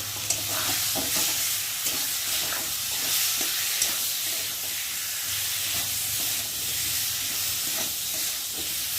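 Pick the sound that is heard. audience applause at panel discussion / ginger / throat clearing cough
ginger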